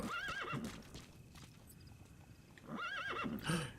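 A horse whinnies twice in a video game, a wavering high neigh near the start and another near the end, with faint hoof clops and quiet ambience between.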